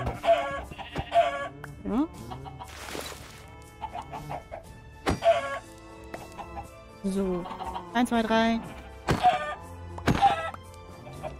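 Chickens cluck in Minecraft, short blocky game clucks scattered across the scene between soft thunks, while someone talks and counts aloud over them.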